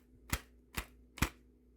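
Three sharp, evenly spaced knocks from a Tiny Tears doll's head being banged to fix a lazy eye, each hit short and close with quiet gaps between.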